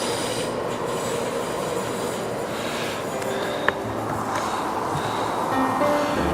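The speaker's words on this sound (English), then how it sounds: "there's our train going back, we just used." A train pulls away from a station, a steady rumbling roll of wheels on track heard from the platform, with thin metallic wheel squeals and a brief sharp click partway through.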